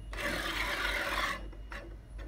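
An IAI ACON-C electric actuator running, its ball screw and linear guide making a steady, faint scraping hum for over a second that then trails off into softer, uneven traces, with no motor whine.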